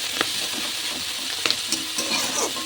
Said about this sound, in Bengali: তাকে নেড়ে দিলাম।